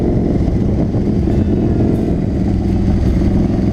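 A V-twin engine on a Harley-Davidson Wide Glide motorcycle rumbles loud and close with a deep, steady throb, droning continuously without pause.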